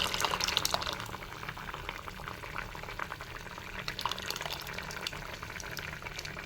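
Steady bubbling and gurgling of lentil water boiling in a pot, a continuous low rumble with faint crackles throughout.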